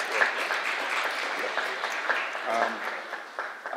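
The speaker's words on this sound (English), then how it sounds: "So give them a round of applause." An audience claps during a carnival announcement event, a steady spread of applause at moderate level for a few seconds with a voice partly heard alongside it.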